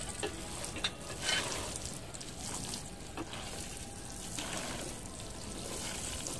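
A little water poured over freshly sown bean seeds in soil inside a fruit crate on a rooftop, a faint continuous soft trickling hiss, close and quiet.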